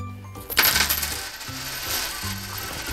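A handful of coins drop and clink together in a quick cluster, followed by a few softer scattered jingles, close and clear.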